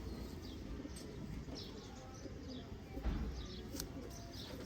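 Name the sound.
breeder pigeons cooing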